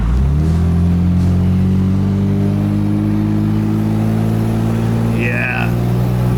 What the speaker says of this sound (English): Listen to this exhaust. I made it to Colorado Springs before it completely blew up,